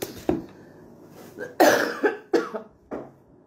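Several close, sharp coughs, one or two with throat clearing, spaced irregularly over a quiet room background.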